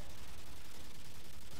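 Rapid gunfire from a first-person shooter match fills the moment, a dense, continuous burst of shots at close range with no voices over it.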